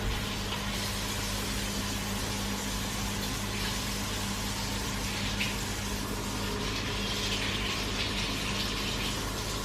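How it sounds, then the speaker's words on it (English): Water running from a tap to fill a measure of about 500 ml, a faint steady gushing stream over a low constant hum, with no voices. "So I need 500 ml of water, so I'll get that."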